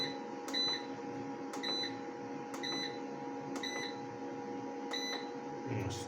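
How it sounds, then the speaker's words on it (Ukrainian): Solar inverter beeping while charging a home backup battery, five short evenly spaced beeps about a second apart over a constant electrical hum. "49 вольт, інвертор почав пищати."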